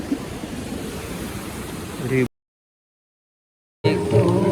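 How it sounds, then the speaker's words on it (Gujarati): Swollen Ganga river rushing past a ghat in Rishikesh, a loud broadband roar of flowing water that cuts out abruptly midway and returns, with voices faintly mixed in. "ગંગા નદી બહુ જ ભાઈ ખીજમાં આવે ગઈ એવું લાગે"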